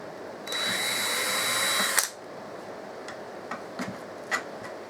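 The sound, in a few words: drilling while assembling a model stock car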